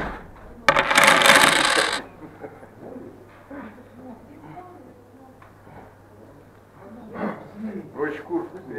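Coins jingle and clatter loudly for about a second as pocket change is emptied at a polling-station security check, followed by quieter rustling and people talking in the background.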